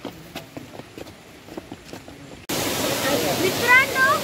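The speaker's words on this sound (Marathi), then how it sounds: "आता आपण आलोय छोट्या धबधब्याकडे आणि खूप पाणी भरले" Heavy flowing water at the small falls of Thoseghar waterfall near Satara, in full monsoon spate, starts abruptly midway and roars steady and close; before it, a faint ambient stretch with scattered soft knocks.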